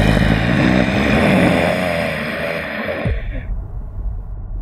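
A human voice imitates the snarling growl of an aswang, a low breathy rasping snarl that swells and trails off, close and alone.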